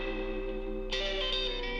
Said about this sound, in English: you hear the reverb in the right channel.